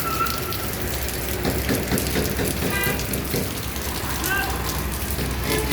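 Heavy rain pours onto a waterlogged road beside a motorcycle shop in a steady, loud wash of patter. Brief car horn toots and passing traffic cut through the downpour now and then.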